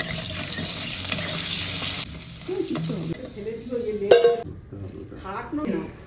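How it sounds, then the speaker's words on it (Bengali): Salted potatoes fry in hot mustard oil in a wok, a steady sizzle with stirring scrapes and a few sharp clinks, quietening in the second half. "এখন কড়াইতে সর্ষের তেল গরম করে এখানে আলুগুলো নুন দিয়ে ভেজে তুলে নিতে হবে"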